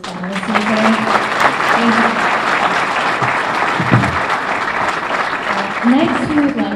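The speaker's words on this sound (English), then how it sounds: "Can we please have one last round of applause for all of the panelists today?" A long, dense round of audience applause for panelists at a drug lecture, loud and continuous with a voice speaking briefly over it near the start and again later.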